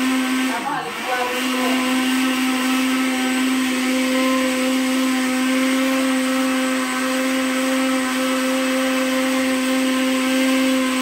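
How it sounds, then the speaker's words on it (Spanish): An electric blender blends the ingredients for chicken meatballs, giving a loud, steady whirring drone that holds unbroken for the whole stretch after a brief shift near the start. "Pues sí, vamos a licuar."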